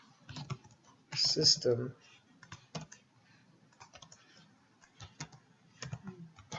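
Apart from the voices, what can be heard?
typing on a computer keyboard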